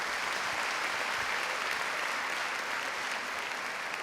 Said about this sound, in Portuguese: Vamos aplaudir aqui a Mina.